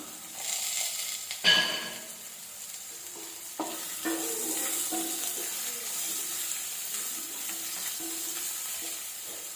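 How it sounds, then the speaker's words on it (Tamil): A sprig of curry leaves dropped into hot oil, a sharp crackle at the moment they hit, then a steady sizzle with occasional stirring clinks, close and moderately loud, no voices. "இதில் ஒரு கொத்து கருவேப்பிலை போட்டுக்கலாம்."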